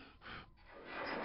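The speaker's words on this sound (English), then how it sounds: "The little gasp at the start when you breathe in deeply when you've been underwater is a little bit too lifelike" A player character in the video game Quake surfaces from underwater and takes a sharp, close gasp for breath, followed by a longer, rising inhalation.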